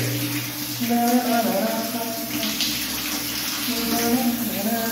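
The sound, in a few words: water running while bathing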